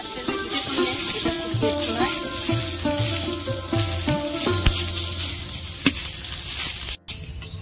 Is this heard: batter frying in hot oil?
yes